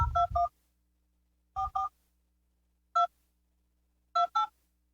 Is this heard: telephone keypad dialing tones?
yes